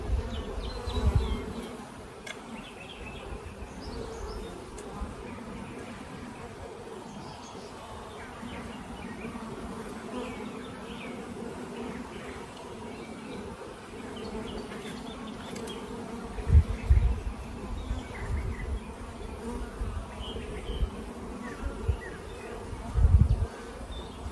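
A small honeybee swarm hums with a soft, continuous buzz at close range, broken by a few brief louder bumps and handling noises.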